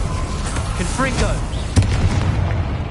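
A Confringo spell goes off in Hogwarts Legacy as a dull booming burst, with a rumbling low tail and a whooshing magical sweep just before it, under steady game ambience.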